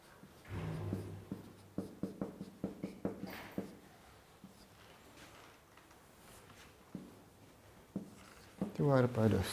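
Chalk or marker taps and strokes on a lecture-hall board in a quick series of sharp, close marks, then sparser scratches, with a lecturer's voice speaking over and between them.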